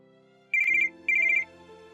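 A telephone ringtone sounds twice, each a short, bright electronic trill lasting under half a second, over soft background music.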